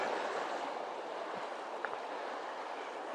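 Swollen Colquitz Creek, once a drinking-water channel from Elk Lake, rushes at full force as a steady, fairly faint broadband wash of flowing water, alone without voices.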